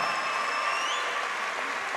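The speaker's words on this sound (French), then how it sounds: "applaudir une nouvelle fois très fort" At a savate kickboxing bout, a crowd applauds from a distance, steady and fairly soft clapping, with a faint tone running over it.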